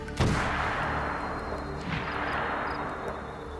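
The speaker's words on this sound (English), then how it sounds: "There's all this gunfire." Distant gunfire in the Assassin's Creed Shadows video game, a sharp boom at the start followed by a softer second blast over a steady, noisy rumbling background.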